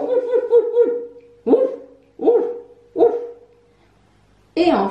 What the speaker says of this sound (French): Il y avait aussi Médor le chien.